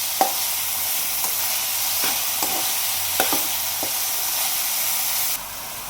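Cleaned mushrooms fry in a pan for mushroom masala, a steady close sizzle and hiss with occasional soft stirring clinks and no talk.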